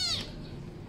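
A black cat gives one short, high meow, close and clear, which quickly fades into quiet room tone, followed by a small sharp click.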